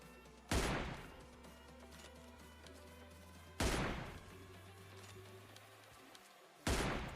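Three loud, sharp rifle shots from an M24 in the mobile battle royale game PUBG Mobile Lite, spaced a few seconds apart, each with a brief decaying tail over a steady low game ambience.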